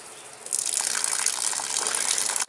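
Water gushes steadily from a hose or can into a hanging basket of cucumbers planted in potting mix, a close, continuous splashing rush that starts abruptly and runs to the end.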